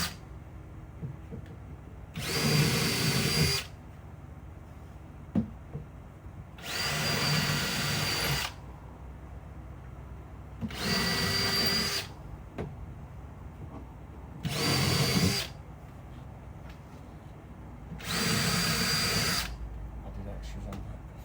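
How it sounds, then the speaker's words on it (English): A power drill bores 4mm holes through the side of a cabinet during a media wall installation, in five separate bursts of a few seconds each, loud and close, with quiet gaps between them. "we're going to go back to drilling 4mm holes through the side of the cabinet"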